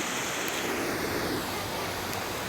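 Hundru waterfall in Jharkhand, its water leaping from the top of a hill into a pool below, makes a steady, broad roar of rushing water that holds even throughout, heard alone with no voices.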